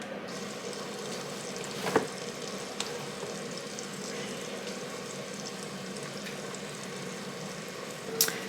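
Meat browns in a frying pan with an even, continuous sizzle at moderate level, broken by a few faint clicks and pops.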